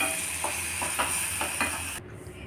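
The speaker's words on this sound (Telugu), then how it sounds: "పోపు పెట్టేశానండి" Tempering of black gram dal, chana dal, dried red chillies and curry leaves sizzling steadily in hot oil for ridge gourd chutney, with a few soft stirring clinks over the close, continuous hiss.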